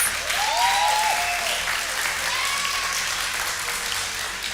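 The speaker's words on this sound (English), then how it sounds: "So give yourselves a round of applause." Sustained applause from the audience at the Lesedi Awards 2021 broadcast, a dense, steady wash of many hands clapping that stays loud throughout, with a few brief whoops rising above it.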